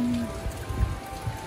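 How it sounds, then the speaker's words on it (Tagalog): Soft, steady patter of light typhoon rain falling on surfaces, with a faint low rumble underneath and no voices. "Mahina ang ulan."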